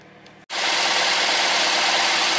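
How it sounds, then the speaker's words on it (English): A car engine idles steadily after an ignition coil repair, starting abruptly after a brief gap and holding a loud, even hum close by with no talking. "now engine is running very smoothly, and look, no any vibration"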